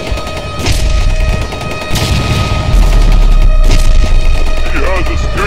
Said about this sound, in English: Fire Hellfire Missile.